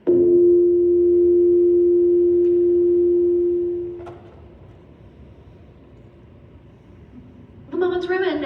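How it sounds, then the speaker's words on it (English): A long, loud steady beep from an answering machine sounds alone for about four seconds, then cuts off to faint room hiss before voices begin near the end. "Leave a short message after the tone."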